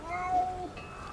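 A single short cat meow from the Conan Exiles video game, a thin tonal cry lasting about a second, moderately near and heard alone.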